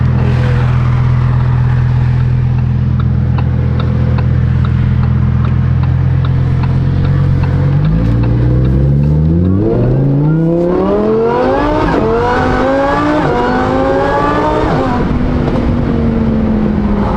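Lamborghini Huracan fitted with a race exhaust, idling with a low burble before accelerating hard through several gears, the loud, close engine note climbing and dropping with each shift and then settling into a high steady drone.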